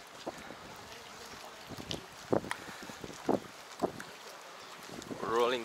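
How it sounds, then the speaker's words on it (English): A ferry on the water in the Netherlands, with wind buffeting the microphone, scattered low thumps and splashes, and a rising rumble near the end. "Can ride on this ferry here."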